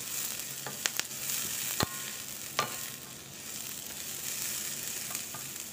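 Scrambled eggs, Chinese style, cook in a pan with a steady soft sizzle and a few sharp clicks of a utensil against the pan.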